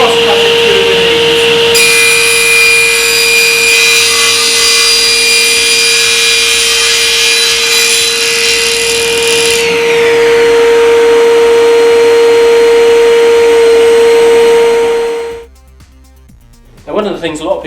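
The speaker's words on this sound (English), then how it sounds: "We can start the saw, switch on the extraction because we're using MDF, and cross-cut it through with ease." A SIP 3hp cast iron table saw runs with dust extraction droning, its motor giving a steady tonal whine while the blade cross-cuts MDF in a harsher buzzing passage, then the machine spins down and falls nearly quiet near the end.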